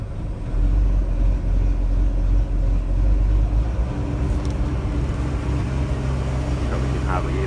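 A V8 Mercruiser boat engine pulled into neutral rumbles at a low, near-stall idle, a loud, steady deep drone throughout, with a person speaking over it.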